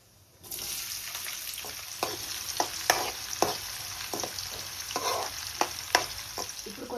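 Cumin, mustard seeds and onions drop into hot oil and burst into a sudden sizzle that stays steady, with irregular crackles and spatula scrapes on top, close and clear, no voices.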